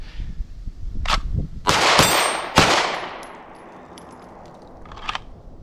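Gunshots from a 9mm pistol on an outdoor shooting drill ring out as several sharp, loud cracks, some close together, each with a ringing tail, plus a fainter pop near the end.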